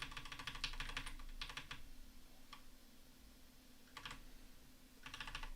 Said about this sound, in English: And we'll just use the arrow keys to keep it going.